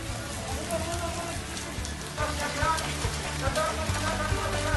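Rain falls steadily outdoors during a food aid distribution for residents in Indonesia. It makes a dense, constant hiss of drops on surfaces, with faint background activity underneath.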